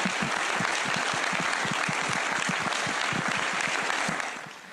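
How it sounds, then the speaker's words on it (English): Loud, dense applause from an audience at the Guiana Space Centre after the CO3D and MicroCarb launch, sustained clapping that holds steady for several seconds before tapering off at the end. "I would like to ask everybody a big round of applause"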